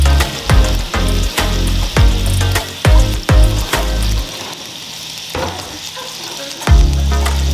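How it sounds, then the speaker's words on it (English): Onions fry in a pan on the stove, a loud continuous sizzle broken by repeated scraping stirs at a steady rhythm, close up with no talking. "we're gonna cook the onions until they're a little tender and translucent"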